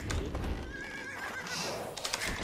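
A horse neighs and whinnies in a video game, a drawn-out call in the middle of busy game noise with clip-clop hoofbeats and other effects around it.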